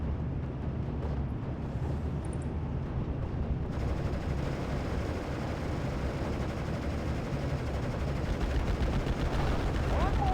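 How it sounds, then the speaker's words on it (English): Anti-tank guns fire in the Normandy war game Steel Division, a dense, continuous rumble of gunfire and battle noise that stays steady and loud throughout. "you can start shooting things now with the anti-tank"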